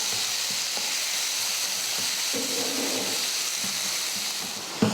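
Tomato and onion sauté in a pan with a pinch of salt for a fish pepper fry, giving a continuous close sizzle broken by occasional stirring scrapes and clinks.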